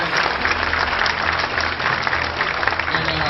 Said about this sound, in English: Let's do just a round of applause to make sure that guy is safe and gets home.